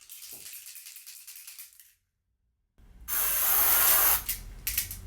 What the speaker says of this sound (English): Very aerosol spray, very strong alcohol smell.